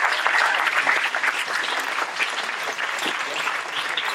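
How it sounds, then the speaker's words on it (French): Loud, dense applause from a plenary audience, steady clapping throughout with no voices over it. "Alors on peut l'applaudir très fort."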